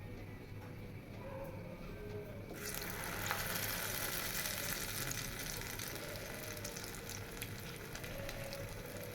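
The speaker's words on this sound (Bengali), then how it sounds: "একে একে সবগুলো চিকেন দিয়ে আস্তে আস্তে করে ভেজে নেব" Chicken pieces drop into hot oil, and a soft, low background hiss quickly swells into a steady, close sizzle of frying that holds to the end, with no one talking.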